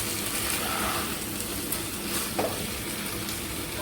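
Chicken frying in sunflower oil gives a steady, close sizzle, a constant hiss with faint crackles and no voices throughout.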